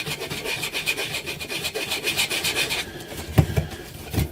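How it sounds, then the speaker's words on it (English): A P80 pistol frame is scuffed by hand with a quick, steady rasping rub for about three seconds, then a few separate scrapes and knocks follow. The sound is close and moderately loud, with no talking. "I'm just going to scuff that area up a little bit"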